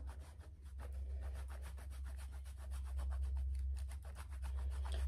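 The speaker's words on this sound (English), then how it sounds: "So now I'm just grating in some fresh parm." Fresh parmesan cheese being grated, a steady rhythmic rasping of back-and-forth strokes close by over a low constant hum, no talk.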